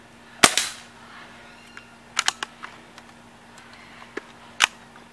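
A Crosman Pumpmaster 760X air rifle fires pellets outdoors, giving a sharp crack near the start followed by several smaller clicks and taps, then a second sharp shot near the end, all without talk.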